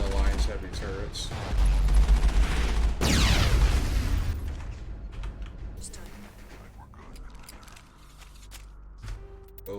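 Heavy Alliance turret gunfire in the video game Mass Effect, a loud rolling burst and boom that fades into scattered lighter shots, with people talking over it.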